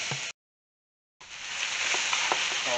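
Korean mandu dumpling filling cooking down in a pan gives a steady, close sizzle and frying hiss, cut off briefly by a short silent gap, then returning louder and continuous with faint stirring ticks, no voices.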